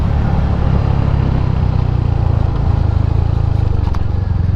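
A 2023 Royal Enfield Hunter 350 motorcycle on a test ride gives a steady, loud low engine rumble that holds an even thump throughout, with road and wind noise over it and no talking.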